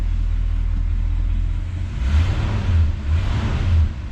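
A 1966 Ford Galaxie 500's engine idles with a steady low rumble, close by, then swells in a few gentle surges as it settles after starting.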